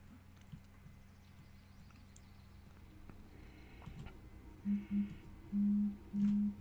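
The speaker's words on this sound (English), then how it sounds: "Oh, that is my phone." Short electronic phone notification tones chime in a quick burst, several beeps in close succession, sounding over a quiet room background.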